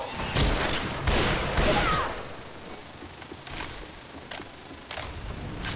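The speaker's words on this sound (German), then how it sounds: "Ja, muss sie kaputt schießen." Gunfire in the video game Left 4 Dead 2: a burst of rapid shots up front giving way to a few separate sharp cracks spaced out, loud and close over a quieter game background.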